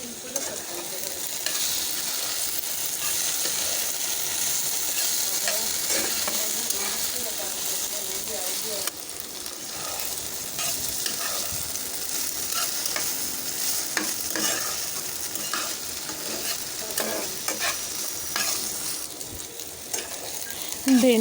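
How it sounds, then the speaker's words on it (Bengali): Okra fries in a pan with salt and turmeric, giving a steady, loud sizzle with scraping and stirring sounds throughout. "লবণ হলুদটা দিয়ে ঢেঁড়সটা ভালো মতো ভেজে নেব।"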